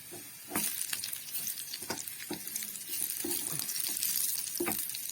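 Curry leaves and shallots sizzle steadily in hot oil for a mustard-seed tempering for chicken stew, a close, continuous hiss broken by several sharp stirring scrapes and crackles.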